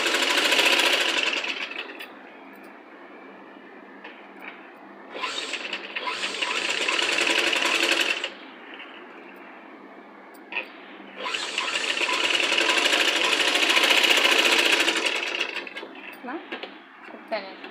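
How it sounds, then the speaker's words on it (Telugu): A sewing machine stitches around the neckline of a child's Punjabi dress top, running in close, loud bursts of rapid needle chatter with quiet pauses between, as someone talks during the stops. "నెక్ రౌండ్ చుట్టూ పాదం ఖర్చుతో ఒక స్టిచ్ అనేది వేసేసుకోండి."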